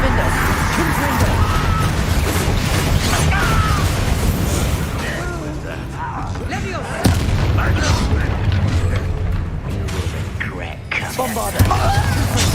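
Blasting curse explosions and spell bursts booming in a Hogwarts Legacy battle, loud and repeated over a dense din of combat effects, with a voice shouting spell names throughout.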